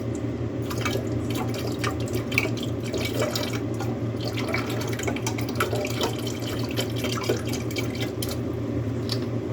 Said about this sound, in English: I'm going to pour some in there.